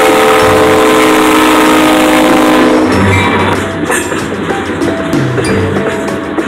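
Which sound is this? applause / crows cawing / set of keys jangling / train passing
train passing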